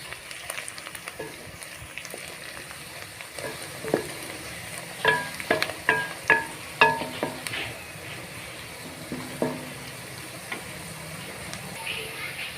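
Onions browning in a pan for palak gosht, a steady sizzle with stirring scrapes and a cluster of sharper clinks and knocks midway, close and fairly loud, with no talking.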